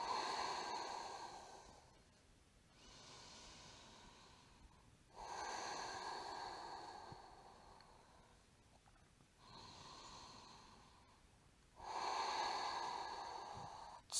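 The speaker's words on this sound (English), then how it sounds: "Breathing in through the nose." Slow, deep breaths drawn in and out through the nose during a vinyasa yoga flow, soft airy rushes alternating in a steady rhythm with quiet pauses between them, close and faint.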